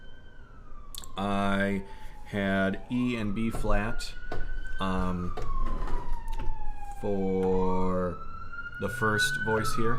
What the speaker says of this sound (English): Sorry about the siren outside.